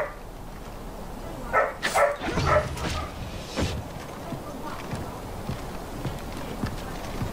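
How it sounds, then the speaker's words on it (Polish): A dog barks in the open-world shooter Far Cry 4, giving a few short bursts of barking mixed with game noise and running footsteps around them. "Jeszcze pies zaczął szczekać"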